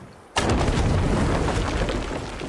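A sudden explosion in Assassin's Creed Valhalla, a sharp loud blast followed by a long rumbling roar that slowly fades, close and with no talking.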